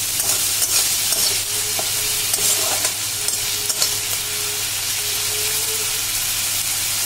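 Onion, garlic, chili, salt and ground coriander frying in oil for soybean paratha, a steady close sizzle with a soft hiss running throughout and occasional light scrapes of stirring.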